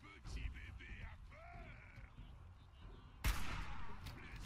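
A hunting rifle fires in Fallout 4 with one sharp, loud broadband crack late on, amid a busy game soundscape with lower-level shots, rumble and effect tones earlier.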